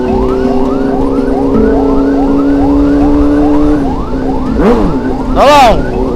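Very loud ambulance siren wails in a rapid repeating yelp from close by on a congested road alongside a big escorting motorcycle, then gives way to a couple of sharp, swooping horn-like blasts over the engine noise.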